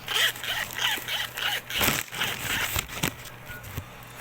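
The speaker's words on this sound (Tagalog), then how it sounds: "Ngayon i-open natin. Parang matalim yung zipper, pero okay naman." Zipper of a cheap long wallet being opened, a run of quick rasping zip strokes followed by scrapes and handling noises, close and crisp, no talking.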